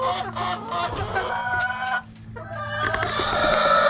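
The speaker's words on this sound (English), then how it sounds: "what we've got here is a little carry cage with our new chickens" Several chickens in a small carry cage cluck and squawk continuously up close, a busy overlapping chatter with a brief lull midway before picking up again.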